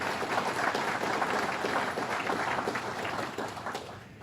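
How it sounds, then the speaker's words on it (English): Sustained applause from an audience at a government press conference, steady clapping filling the room for several seconds before tapering slightly. "Let's give him and DFS a round of applause."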